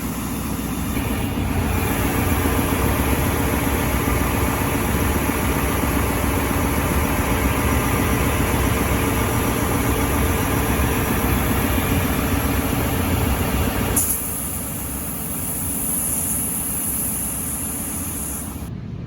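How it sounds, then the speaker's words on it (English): A Timesaver drum sander runs thin acoustic guitar side boards through its drum, making a steady, loud broadband roar with a low machine drone that drops to a quieter idle hum near the end. "We'll flip the boards over and get the other face and just keep alternating which faces run through the sander each time."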